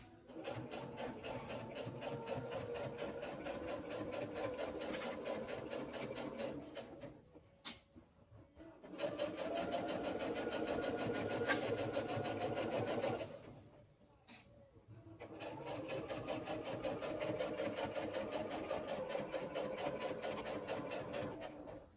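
A sewing machine back stitches a button-down shirt collar seam along a 5/8 seam allowance, running in three steady, rapid stitching bursts separated by brief pauses.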